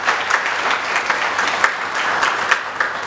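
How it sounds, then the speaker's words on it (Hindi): Audience applause at an honour ceremony at an IAS academy in Dehradun: brisk, even clapping from a modest crowd, close and fairly loud, continuing steadily throughout. "एक बार तालियां।"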